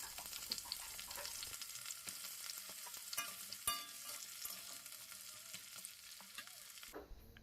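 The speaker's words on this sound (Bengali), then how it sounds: "প্রথমে তেল কড়াইতে গরম করে আলু ধুয়ে ভেজে নিচ্ছি। একটু লালচে লালচে করে ভেজে নিতে হবে।" Washed potatoes fry in hot oil in a wok, a continuous soft sizzle with crackles and occasional stirring scrapes, fairly quiet and close, with no talking.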